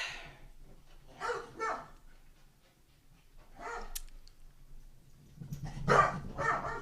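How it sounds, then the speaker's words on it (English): Dogs bark and yip in short separate bursts while chasing each other indoors, several sharp barks with quiet gaps between, fairly close. "My dogs, of course, are chasing each other right now."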